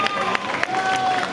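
An audience applauds a dancer at a live stage show in Mérida, Yucatán, Mexico: a dense, steady wash of clapping and crowd noise with a few sharper bursts, heard alongside a sustained tone and voices.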